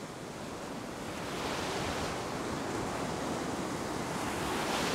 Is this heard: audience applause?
no